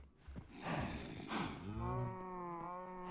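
A cow in the video game Minecraft moos once, a drawn-out, close bovine call that rises and then holds a steady, tonal tail, heard alone with no talk.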